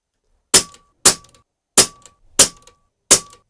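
Five sharp shots from a Snowpeak PP750 4.5mm PCP air rifle crack out one at a time at irregular intervals, each a loud snap with a short metallic ring and quick decay.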